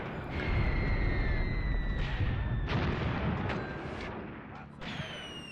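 Repeated mortar fire in the WWII tactical game Graviteam Tactics: Mius Front: a dense, rumbling battlefield bed with several sharp booming blasts about every second or so, loud and sustained, with no talking.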